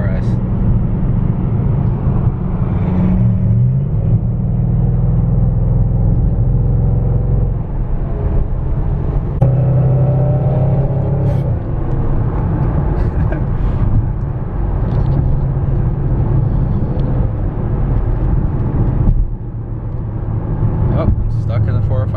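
Koenigsegg Agera RS driving on the 405 freeway, its engine and road noise a steady loud low rumble throughout, with passing traffic mixed in and voices talking over it at times.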